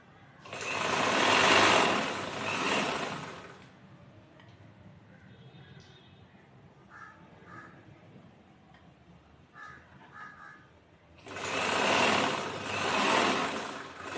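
A sewing machine stitches piping onto a chudithar sleeve in two loud bursts at the start and end, with quieter taps and faint background sounds between.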